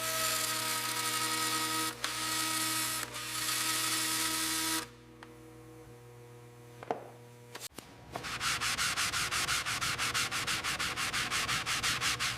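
Hard sanding on the steel body of a 1937 Chrysler Airflow coupe, breaking through the finish to expose rust: steady loud abrasive rasping, a short quieter pause, then faster rhythmic back-and-forth scrubbing strokes, with no talk.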